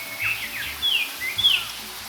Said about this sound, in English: the Jamaican oriole